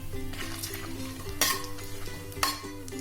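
Whole spices (bay leaves, cinnamon, marathi moggu, cloves, star anise, cardamom) frying in oil in a cooker for meal maker biryani, a steady sizzle with stirring and two sharp clinks of a spoon against the pot.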